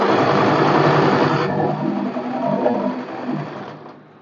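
A sewing machine double-stitching an umbrella dress, a close, steady whirring run that slows and fades away toward the end.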